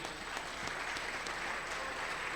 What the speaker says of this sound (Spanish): pido un caluroso aplauso por los 60 años del PSML